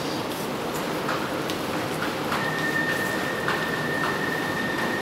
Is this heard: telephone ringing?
no